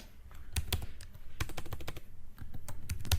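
Fast typing on a computer keyboard while writing C code, with irregular bursts of crisp, close key clicks and short pauses between runs.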